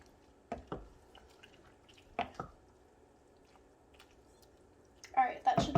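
Tofu and bean dish with a whole chipotle pepper being stirred in a pot, giving a few soft wet squelching and clinking sounds spread across the stretch, close by and fairly quiet, then a louder burst of mixing at the end.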